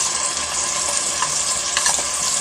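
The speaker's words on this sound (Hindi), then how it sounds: "अच्छी तरह मसाला भून लेते हैं" Ground coriander, turmeric and red chili roasting in oil in a pan for a homemade siri paye dish, a loud, steady, close sizzle and crackle with faint stirring scrapes and no talk.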